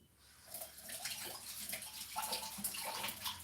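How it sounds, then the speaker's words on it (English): A fresh, large egg is rinsed under running water from a kitchen tap, a soft steady splash and trickle with small shifts as it is turned, faint and close, with no talking. "this is a fresh egg, guys. So I need to wash it off."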